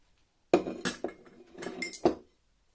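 A few sharp clinks and clatters of plates being handled in a kitchen, in short bursts over about two seconds, close by with quiet before and after.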